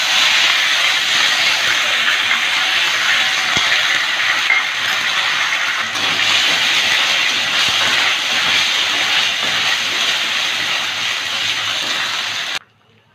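Ginger paste dropped into hot oil with a cumin tempering for a Bengali pointed gourd dish: a loud, continuous close hiss and sizzle holds steady throughout, then cuts off abruptly at the end.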